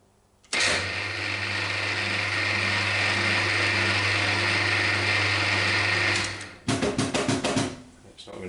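A machine cutting tough EN24 steel clamped in a vise while making a tailstock die holder: a loud, steady mechanical whine and grinding drone that holds for several seconds, cuts off, then returns as a burst of rapid chattering knocks.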